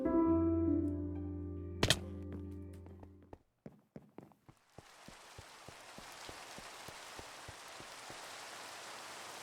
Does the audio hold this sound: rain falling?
yes